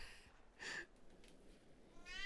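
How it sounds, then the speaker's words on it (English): A single short cat meow rises clearly in the middle of a quiet scene in a drama, with faint room noise around it and no talk over it. "There is a cat."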